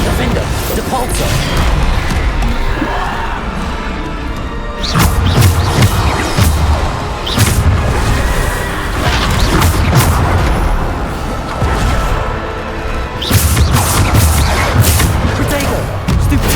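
Bombarda blasting spells in the Hogwarts Legacy video game go off as a rapid run of loud, heavy booms and crashes, packed close together in bursts amid the din of combat.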